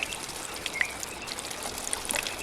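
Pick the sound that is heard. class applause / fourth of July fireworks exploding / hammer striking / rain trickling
rain trickling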